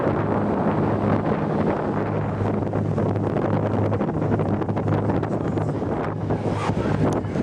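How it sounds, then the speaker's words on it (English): Steady wind buffeting an outdoor microphone in Tangier, Morocco, a loud continuous rumbling roar with gusty fluctuations and no pauses throughout. "it's a little windy right now"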